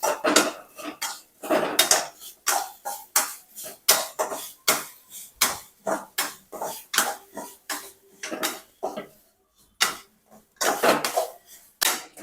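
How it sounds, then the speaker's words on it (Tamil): Dry-roasting grated mature coconut in a pan for Diwali sweets: a spoon stirs and scrapes against the metal in quick, irregular bursts of clinks and scrapes, close and clear with brief pauses between. "இப்போ இதுலேயே வந்து நல்லா தேங்காய் வறுத்துக்கலாம்"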